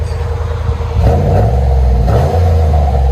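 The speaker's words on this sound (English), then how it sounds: "Lincoln Continental 2002 muffler delete." A 2002 Lincoln Continental with a 4.6L V8 and muffler delete revs loudly, its exhaust surging in repeated deep rising roars over a rumbling idle, close and powerful.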